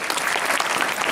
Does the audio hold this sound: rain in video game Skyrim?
no